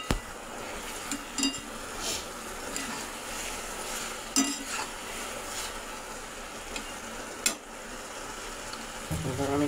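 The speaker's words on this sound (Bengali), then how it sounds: "পনিরটা দিয়ে একটু নাড়াচাড়া করে নেব" Paneer is stirred in a pan with a spatula, giving gentle scraping and occasional sharp clinks against the metal over a quiet, steady frying sizzle.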